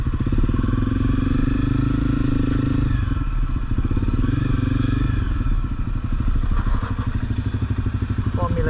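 A motorcycle engine drones loud and close throughout, with a pulsing low rumble and rattling clatter, at a rural fuel stop on an adventure ride in New South Wales, Australia; a voice talks over it.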